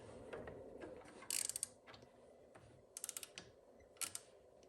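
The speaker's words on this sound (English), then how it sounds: "So tighten that up. Let's see if I get a wrench in here." A wrench tightening the mounting bolt of a footpeg on a Harley-Davidson Touring motorcycle, quiet ratcheting clicks in short bursts over faint mechanical rustling, close and without talk.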